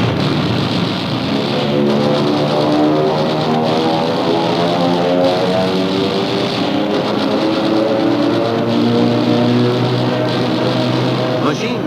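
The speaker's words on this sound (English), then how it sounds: "marauding fighters swoop down upon mock Nazi planes" Propeller-driven WWII fighter planes dive in a mock air attack, their engines droning loudly with shifting, sliding pitch throughout.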